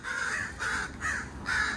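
Adult crows calling near a baby crow fallen from its nest, four loud harsh caws in a steady rhythm, close by, with no talking.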